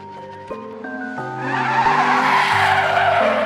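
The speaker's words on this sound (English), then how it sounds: "let's go drifting" A Nissan 350Z drifts with loud, sustained tire squeal and skidding over engine revs that step through gear changes, close and continuous.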